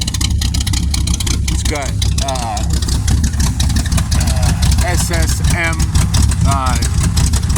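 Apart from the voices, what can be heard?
Chevy S-10 with 406ci stroker engine running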